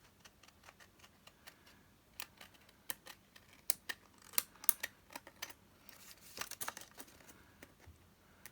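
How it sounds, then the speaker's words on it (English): Pink scissors snip through printed paper along a line for a junk journal, a long run of sharp, quiet repeated cuts and clicks, fairly close. "I'm just going to cut on that line"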